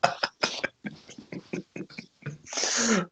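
A single person sneezes loudly near the end, a sharp burst following several shorter bursts of breathy, sniffly sounds.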